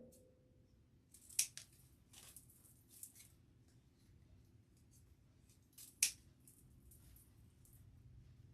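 Scissors trim the fabric tails of a Santa hat, a few sharp isolated snips close by over quiet room tone.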